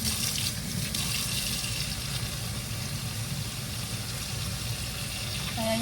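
Tap water running steadily into a sink while soap is lathered for a skincare product test, a continuous broadband rush that stays even and close throughout with no talking.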